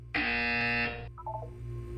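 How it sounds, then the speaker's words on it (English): A loud, harsh buzzer blares for about a second in the game Portal 2, followed by a short descending string of electronic beeps, then quiet hum. "You will hear a buzzer."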